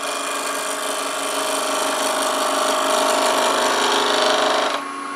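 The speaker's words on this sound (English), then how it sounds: "Now I'm going to turn this round" A wood lathe spins African Blackwood as a 3/8 inch spindle gouge cuts it, giving a steady, close whirring hum with faint scraping for about five seconds before easing off.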